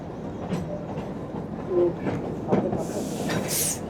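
The Kalka–Shimla toy train rolls into Shoghi station, with a low steady rumble, soft rhythmic wheel clatter and a brief hiss near the end, heard from on board with some background voices.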